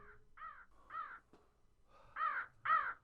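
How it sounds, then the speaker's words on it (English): A crow caws repeatedly, with five or six harsh, separate calls spaced unevenly and growing louder toward the end, close and clear against a quiet background with no talking. "A crow flew over my head and landed beside the tall woman's heels."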